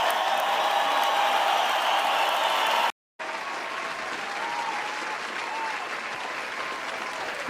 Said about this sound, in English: Yeah, come on, clap it up, clap,